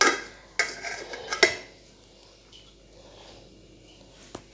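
Plain rice is portioned onto plates for a home lunch of chicken and potato curry, with a few sharp clinks and scrapes of a serving utensil against dishes in the first seconds, then quieter light rustling.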